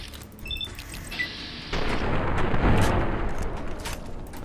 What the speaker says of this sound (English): let's try a shotgun instead